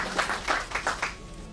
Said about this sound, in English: Give it a big round of applause there.